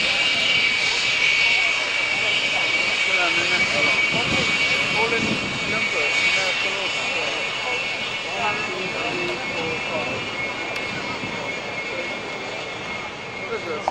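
Steady jet engine roar from the Italian Air Force national aerobatic team's solo jet at the RIAT Fairford Air Tattoo 1994, a sustained distant whine and rumble under an announcer's commentary over the PA.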